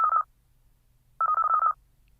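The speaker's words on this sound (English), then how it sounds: "It's the phone." A phone rings in a home in two electronic trilling bursts, a short one followed by a longer one, loud and clear against near silence.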